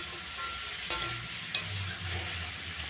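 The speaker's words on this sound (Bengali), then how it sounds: "আমি আবারও ভালো করে মিশিয়ে নিচ্ছি।" Vegetables being stirred in a sizzling frying pan, a steady hiss punctuated by two sharp spatula clinks against the pan, close and alone.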